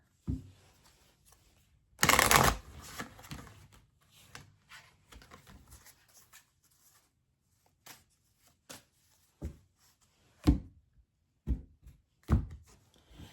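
Oracle cards are shuffled during a tarot reading, with one loud burst of riffling near the start followed by scattered soft taps and thumps of cards being handled in a quiet room.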